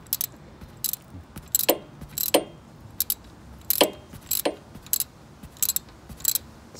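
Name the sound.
tightening a part with a wrench during Harley oil change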